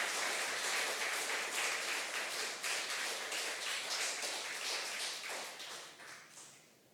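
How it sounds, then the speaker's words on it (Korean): An audience at a humanities lecture on philosophy and faith applauds to welcome the lecturer, with many hands clapping in a dense, soft patter from start to finish that fades gradually near the end, with no talking. "큰 박수로 환영하겠습니다."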